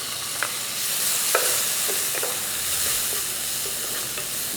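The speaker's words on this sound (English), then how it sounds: "now I'm adding the tomatoes" Tomatoes sizzle in a frying pan with asafoetida for chow chow kootu, a continuous hiss with a few sharp clicks and taps from stirring.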